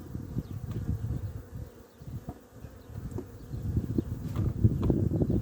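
Honeybees buzz around an open beehive during hive work, a close, steady droning hum with individual bees swelling louder and fading as they fly past, growing busier toward the end.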